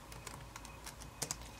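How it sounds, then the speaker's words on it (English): Quick, light clicks from a computer keyboard being typed on, close and fairly soft, in an irregular burst of keystrokes ending in two sharper taps. "Hit Enter on my keyboard."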